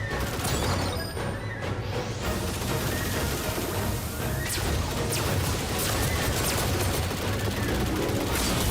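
Rapid laser-like shooting and crashing impacts from the Star Fox video game, dense and continuous across the whole stretch, with constant game noise underneath and no talking.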